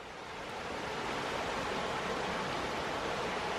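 A river rushes steadily at a wet trail crossing in the Porcupine Mountains, a broad, even hiss of flowing water that swells slightly at the start and then holds constant with no voices.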